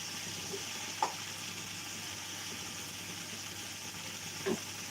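Ash gourd pieces cooking with shrimp in a frying pan, giving a soft, even sizzle with a couple of light clinks from a utensil, no talking.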